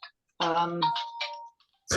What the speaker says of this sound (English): Somebody's ringing. Somebody's phone's not mine.